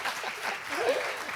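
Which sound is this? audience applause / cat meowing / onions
audience applause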